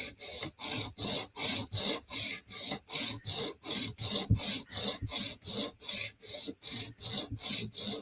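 Steady back-and-forth rasping strokes as the heel of a PM2 tanto knife blade is sharpened, about two strokes per second, even and close, with no talk.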